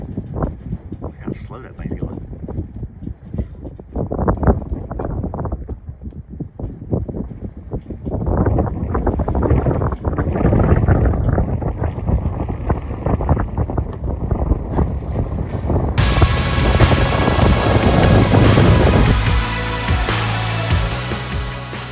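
Strong gusting wind, reported at 12 knots gusting 16, roars and buffets the microphone during a Citabria 7GCBC airplane landing. The rumble is loud and rough, swells in bursts and builds to a dense, sustained blast toward the end.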